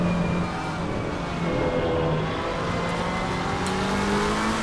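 A GT3 race car at Paul Ricard in a racing game holds a steady, loud engine drone from start to finish, with its pitch sliding up and down through gear changes and no voices over it.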